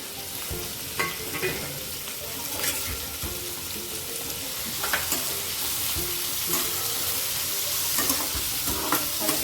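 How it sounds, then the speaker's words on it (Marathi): Onion, carrot, capsicum and cabbage sizzle and fry in hot oil, with steady crackling and occasional stirring scrapes running continuously at close range. "आता आपण हे कांदा गाजर शिमला मिरची आणि कोबी यामध्ये घालूया आणि हे सर्व आपण परतवून घेऊ"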